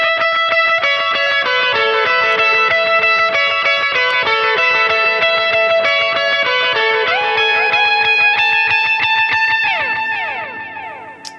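An electric guitar plays a sustained, distorted lead solo from a song, with delay effects smearing its notes into a dense, echoing wash that stays loud throughout before fading near the end.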